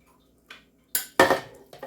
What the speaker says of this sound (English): Now we're going to get that stock pot and dump everything from the stock pot into the crock pot.